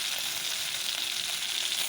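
Steady, continuous sizzling of prawns frying in hot oil, close and fairly loud, with no talking.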